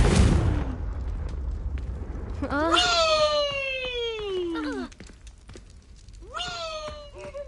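A Confringo fire spell from Hogwarts Legacy lands with a loud, sharp blast that quickly fades, followed by whining, sliding tonal cries over a low background hum.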